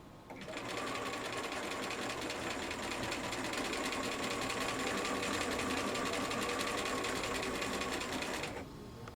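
A sewing machine stitches corded piping close to the cord, a fast, steady mechanical whirr running continuously for several seconds before stopping abruptly.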